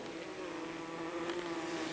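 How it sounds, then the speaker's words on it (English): A steady, dense droning buzz of many Carnica honeybees in a hive, continuous and close, with a sustained hum throughout. "This is a large family of bees of Carnica breed."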